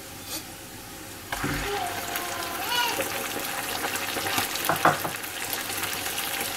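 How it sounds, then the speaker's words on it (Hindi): Chicken liver tipped into lightly browned onions in a hot pan, bursting into a loud, steady sizzle with stirring and scraping that continues throughout. "अब मैं इसके अंदर ऐड कर देती हूँ ये हमारी कलेजी"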